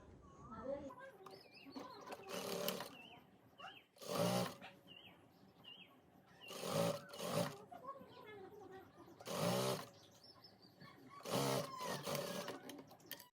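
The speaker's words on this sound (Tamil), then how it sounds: "நாங்கள் கழுத்துக்கு வந்து பைப்பிங்கை வச்சு தைப்போம்." Sewing machine stitching piping onto the neckline of a double-colour gown, heard in several loud bursts of rapid whirring broken by pauses, with someone talking between and over the runs.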